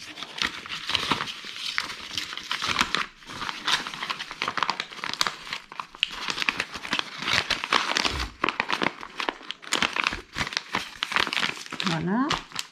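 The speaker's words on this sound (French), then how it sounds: "je vais le remettre dans l'enveloppe" Paper crinkling and rustling as a handmade letter is folded and slipped back into an envelope, close and steady throughout, with a voice speaking over the handling.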